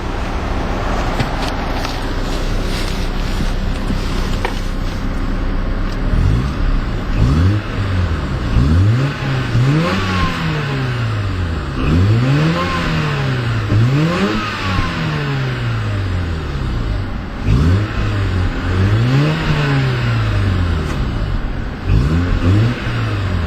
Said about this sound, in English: let's take a listen to the unique sound of that Mazda rotary engine